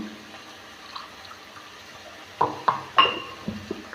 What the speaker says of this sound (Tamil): நமக்கு தேவையான அளவு தண்ணி ஊற்றி